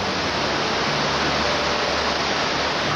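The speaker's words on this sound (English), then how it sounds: "when it starts to melt, the runoff swells the river into a raging torrent" Spring meltwater runoff swelling an Icelandic river into a raging torrent, a loud, dense, unbroken roar of rushing water with no pauses or voices.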